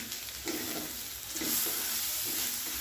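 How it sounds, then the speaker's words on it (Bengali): Washed, drained rice tipped into a hot pan of fried aromatics for polao, with a steady sizzle and frying hiss and occasional stirring scrapes throughout, no voices. "আমি এখন এর মধ্যে চালটা দিয়ে দিব।"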